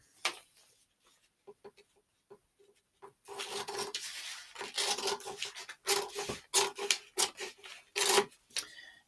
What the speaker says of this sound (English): We're going to cut along these dotted green lines.